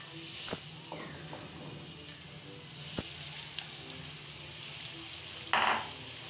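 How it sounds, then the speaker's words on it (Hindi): Chicken frying in a pan over medium heat with cinnamon and star anise, a faint steady sizzle with a few soft knocks and a brief louder hiss burst near the end. "साथ ही अब हम चिकन डाल देंगे फ्राई होने के लिए।"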